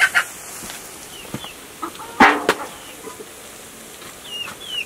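Chickens cluck and squawk close by around an outdoor cooking pot, with scattered short calls, a louder squawk in the middle and faint background clatter.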